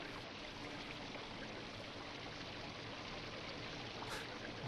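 Creek water flowing outdoors in the wilderness, a steady rushing, trickling stream sound filling the background at moderate level, with no speech.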